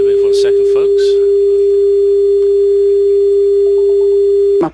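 A telephone call cuts off into a steady, loud continuous disconnect tone that holds for several seconds, with brief talk at the start and a short beeping pattern near the end before it stops abruptly.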